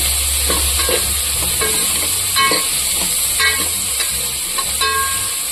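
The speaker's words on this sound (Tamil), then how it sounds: "சும்மா லைட்டா போட்டு நம்ம வதக்கலாம்." Beans, carrot, coriander and mint sautéing in a pan, with a steady sizzle and repeated stirring scrapes at a close, even volume, and no voices.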